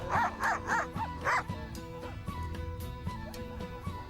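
Several dogs, including an Alaskan Malamute, bark and yip in quick bursts near the start while hiking near a Georgian village, then fall quieter, with scattered yelps continuing over a steady outdoor background.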